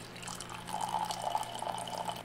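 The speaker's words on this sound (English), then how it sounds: "I take that and I fill it with water." Water runs steadily into a coffee maker decanter in an office, a continuous close filling hiss with a faint rising tone, alone without talk.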